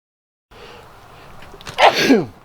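A single sharp sneeze close by, preceded by a short intake of breath, then quiet.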